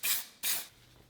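Two short hissing bursts of GT85 lubricant and cleaner sprayed onto a rebuilt Yamaha YZF1000R Thunderace motorcycle part, each lasting about a quarter second, close and clear, followed by quiet.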